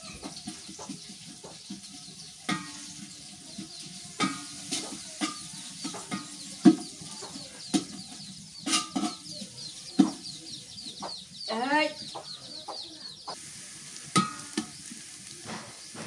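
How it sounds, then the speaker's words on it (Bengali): Onions frying in a cooking pot for village-style khichuri on a winter morning outdoors, a soft sizzle with occasional stirring knocks, while chickens cluck nearby. "পেঁয়াজ ভাজা হয়ে গেছে"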